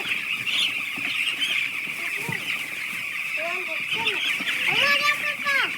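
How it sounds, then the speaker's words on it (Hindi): Chickens on a poultry farm in Bihar cluck and call intermittently over a steady high-pitched background hum, with several louder bird calls near the end and a voice talking at times. "काला मुर्गी भी आया है इस बार।"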